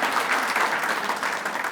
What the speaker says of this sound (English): if we could have another round of applause for Jason